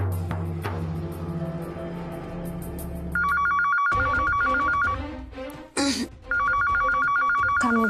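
A telephone rings in repeated electronic trilling bursts, loud and close, with a pause between rings, after a stretch of low background music and rumble.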